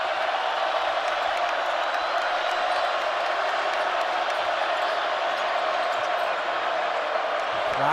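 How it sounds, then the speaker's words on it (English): Fans in the arena at a Colorado versus BYU men's college basketball game keep up a broad, steady crowd roar throughout, with faint bounces and squeaks mixed in beneath it. "Crowd is into it."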